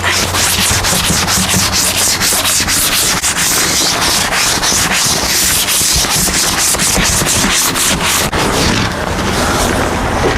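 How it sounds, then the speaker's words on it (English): Vigorous scrubbing on an Equitrek horse trailer during a major clean-up: loud, rapid back-and-forth brushing strokes, dense and rhythmic, close to the microphone with no talk. "Scrub this while we're at it."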